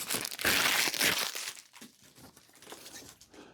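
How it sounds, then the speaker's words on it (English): Backing paper on a picture frame being peeled away, a close crinkling, tearing rustle that is loudest at first and then fades to softer crackles. "now we can just gently as possible, peel that off."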